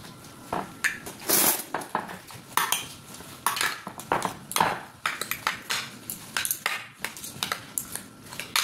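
A spoon clinks and scrapes against a bowl as a vegetable salad is mixed with mayonnaise, giving a quick irregular run of sharp clatters and knocks, close and fairly loud, with no talking.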